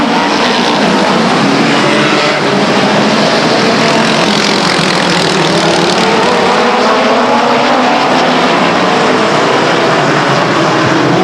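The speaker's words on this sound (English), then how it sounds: "Green flag, racing action. The BCRA midgets." BCRA midget race cars at Stockton 99 Speedway roar off together at the green flag, a dense, loud, continuous engine drone filling the whole stretch without letup.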